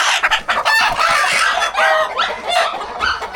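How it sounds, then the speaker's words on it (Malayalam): A broody hen on a chicken farm clucks close by in a busy run of loud, choppy calls, with other fowl noise mixed in. "ഇത് നമ്മുടെ പൊരുന്തിപ്പെണ്ണാണിത്"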